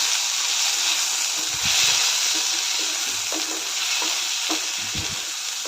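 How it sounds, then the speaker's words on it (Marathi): Curry gravy sautéed in hot oil in a pan, with a loud continuous sizzle and several low scraping thuds from the stirring spoon against the pan. "ही ग्रेव्ही थोडंसं तेलामध्ये परतून घेऊया"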